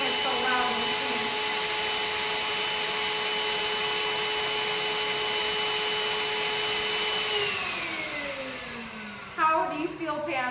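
Aerolase NeoSkin laser machine running loudly with a steady, high whirring tone, which winds down as it switches off, followed by a brief voice.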